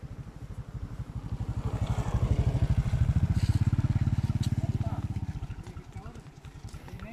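A motorcycle engine putters with a rapid, even chug on a farm, swelling louder as it passes close by and then fading, with a few faint background sounds.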